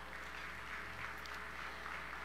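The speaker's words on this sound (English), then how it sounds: "Let's give them all a round of applause." Faint, steady applause from the audience at an MLK interfaith breakfast in Chicago, a continuous patter of clapping over a low hum.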